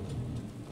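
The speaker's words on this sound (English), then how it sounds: "probably because it's raining" Steady rain falls across the landscape in the video game Skyrim Special Edition, a continuous low, dense wash of patter with a faint rumble beneath, heard alone for under a second.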